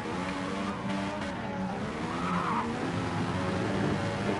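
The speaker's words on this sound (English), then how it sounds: "Tyres are making plenty of noise." Formula One car in a racing simulator at Interlagos, with tyres squealing and skidding in a continuous harsh whine over a steady engine roar, loud and without pauses.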